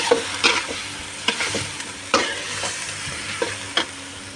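Chicken and potatoes stir-fried in a pan, a steady sizzle with repeated sharp scrapes and clinks of a spatula stirring at irregular intervals, close and alone without talk.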